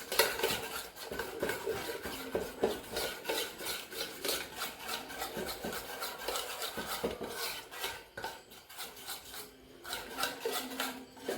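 Cornflour and chilli powder batter being stirred smooth in a bowl, a steady scraping, rasping rhythm of spoon against the vessel, close and continuous throughout with no talk.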